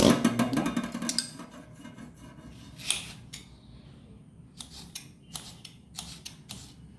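A knife cuts mango into small pieces for a Karavali-style mango dish: a burst of crisp chopping at the start, then a few sharp, separate taps and clicks spaced out over the following seconds, close and fairly quiet.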